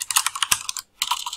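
Keys are pressed on a computer keyboard while working in Unity. Crisp, close clicks come in a quick cluster, then a brief silent pause, then a few more clicks.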